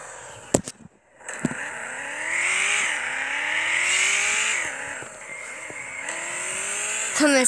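In a video game, a car engine revs and rises repeatedly in pitch as the car slides out of control, sustained and fairly loud after a couple of sharp clicks at the start.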